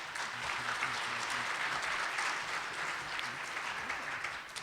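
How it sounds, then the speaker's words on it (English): Audience applause at a municipal forum, steady dense clapping from a crowd filling the room throughout, loud and continuous with no speech over it. "please offer your applause and thank these guys for being here tonight"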